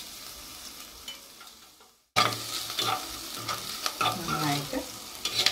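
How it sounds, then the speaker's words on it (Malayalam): Small onions and green chillies frying in a pan: after a quieter start, a loud sizzle bursts in with scraping stirring strokes, and a voice briefly speaks over it. "അപ്പോൾ ഇനി ഈ ചെറിയ ഉള്ളി ഒന്ന് ചെറുതായിട്ട് മൂത്ത് വാടി വരണം."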